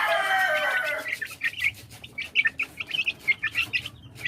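Gilmore Hatch crossed with White Hatch chicks peep in quick, high, repeated chirps, a dense burst at first then scattered bright calls, fairly close with no talking.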